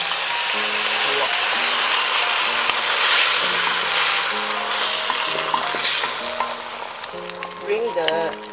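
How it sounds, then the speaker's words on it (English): Cornstarch-thickened sauce for General Tso's tofu is stirred and poured into a hot wok, giving a steady, loud sizzle and frying hiss with utensil scrapes throughout and a brief bubbling flare near the end. "you stir the sauce that we have put together to make sure that the cornstarch is dissolved, and then add it into the wok."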